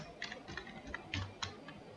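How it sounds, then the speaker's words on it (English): Employee names are typed on a computer keyboard into a Google Sheets duty roster, a quiet run of light, irregular key clicks at close range. "type the names of the employees"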